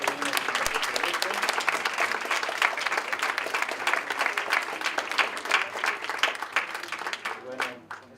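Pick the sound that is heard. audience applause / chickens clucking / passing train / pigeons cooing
audience applause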